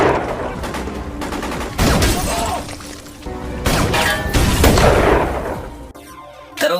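Gunfire from an Iranian sniper ambush at night during the Iran–Iraq war, loud, dense bursts of shots mixed with crashing and shattering impacts, rising and falling in waves without any talking.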